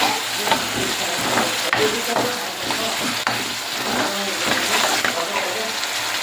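Spice masala for a katla fish curry sizzles and fries loudly in a pan, with a continuous crackling hiss punctuated by scraping stirs throughout.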